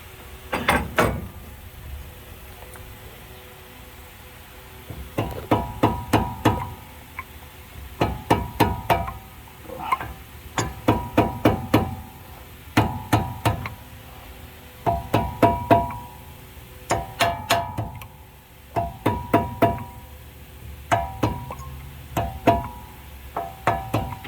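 Repeated bursts of sharp metallic hammer taps on brake hardware of a 2008-2013 GMC Sierra, a few quick strikes in each group with short pauses between, close and ringing, no voices.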